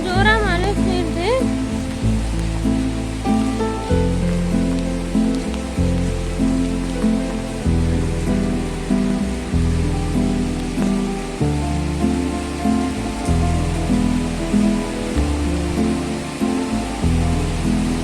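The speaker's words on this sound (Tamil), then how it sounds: "Raining heavily in Bangalore." Heavy rain pours steadily in Bangalore, a loud continuous wash of falling water that fills the whole stretch, with a steady low droning background underneath.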